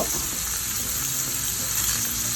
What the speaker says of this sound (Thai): อันนี้เราผัดกับกระทะมันถนัดกว่า